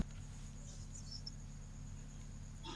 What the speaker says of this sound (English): Please excuse the crickets in the background because it is nighttime here.